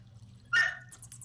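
A single sharp bark from a dog, close and loud, cutting through a quiet room with a low hum beneath it, followed by a couple of soft fainter yips.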